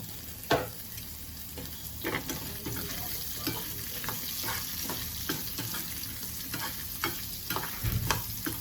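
Onions sizzling and crackling steadily in a hot pan, with occasional scraping stirs and clinks, close up and continuous.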